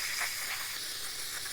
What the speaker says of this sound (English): Spray it out.